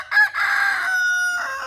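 A rooster on a farm lets out a single loud, close crow lasting over a second, its drawn-out call sounding alone.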